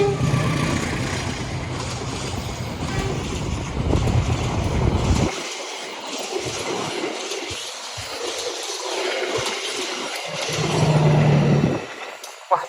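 Logawa passenger train passing through a station at speed, a loud rushing roar with rumbling wheels that fades slightly midway and swells again near the end, with faint voices of onlookers.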